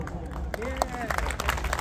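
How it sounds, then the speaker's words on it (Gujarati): A stage audience at a cultural dance performance gives a standing ovation, with scattered close claps mixed into crowd murmur and voices. "સ્ટેન્ડિંગ ઓવેશન આપો"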